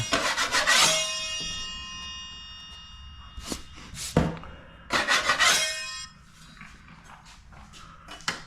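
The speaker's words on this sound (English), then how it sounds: "take my 6-inch knife and just scrape off any high sides" A 6-inch drywall knife scraping ridges off a wall patch, a series of harsh rasping strokes in uneven bursts, loud and close, separated by brief quieter pauses.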